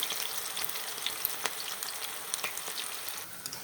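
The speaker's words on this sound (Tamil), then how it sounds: "இப்போ அடுப்பில் எண்ணெய் வச்சாச்சு நம்ம இதை போட்டு எடுக்க வேண்டியது தான்" Cabbage and onion pakoda fry in hot oil with a dense, steady sizzle and scattered crackling pops, close and fairly soft, with no talking.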